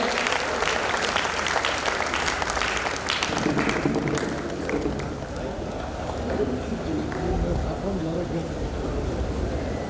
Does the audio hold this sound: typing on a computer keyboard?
no